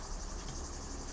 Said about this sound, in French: je sais pas si vous m'entendez très bien avec les cigales qui hurlent à côté